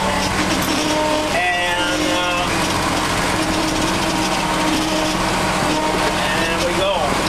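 A tractor pulling a Krone hay baler starts off slowly across a hay field, its engine droning loudly and steadily throughout while someone talks over it.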